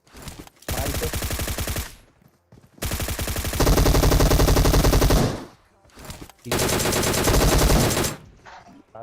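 Bursts of automatic gunfire from the video game PUBG Mobile come in three loud sustained volleys of rapid shots, separated by brief pauses.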